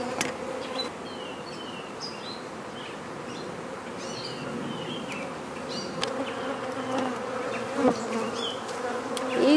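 Honey bees buzz at an open hive during a queen swap, with some bees clustering to swarm; a steady, dense hum fills the whole stretch, with a few nearer passing bees and faint bird calls.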